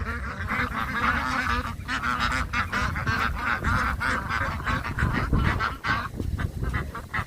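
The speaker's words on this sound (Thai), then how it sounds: "มีเลี้ยงเป็ดด้วยนะคะ" A dense flock of farm-raised meat and egg ducks quacks continuously and loudly nearby, a constant overlapping chorus of honking calls.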